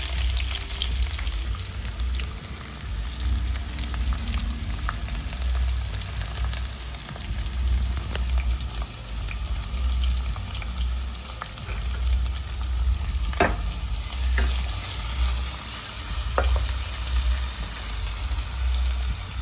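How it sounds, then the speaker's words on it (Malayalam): Whole spices sizzle and crackle steadily in hot oil close by, with occasional scraping as the pan is stirred. "നമ്മളെ എണ്ണയിലേക്ക് സ്പൈസസ് ആഡ് ചെയ്ത് കൊടുക്കാം"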